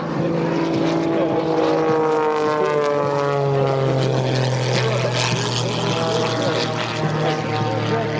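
Aircraft fly at the EAA AirVenture 2024 airshow with the Red Bull Air Force team, a loud sustained propeller drone with rising and falling engine tones that stays close throughout.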